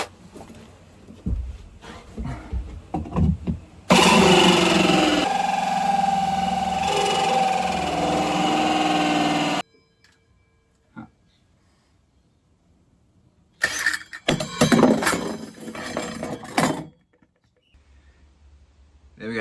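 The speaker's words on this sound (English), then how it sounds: "There we go, the hole is drilled for the access panel" A cordless drill bores an access-panel hole through a Caribbean Offshore 5.5m boat hull, a loud sustained whine running several seconds, then a second shorter burst after a quiet pause, with handling noise around it.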